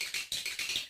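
Building sound effect from the LEGO Star Wars video game: a rapid series of bright, hissy clicking bursts pulsing about five times in one second, fairly faint and alone.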